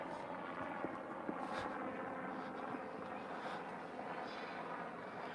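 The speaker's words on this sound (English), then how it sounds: "It's a helicopter." Faint, distant helicopter drone with a soft rotor pulse, steady and low under light wind noise.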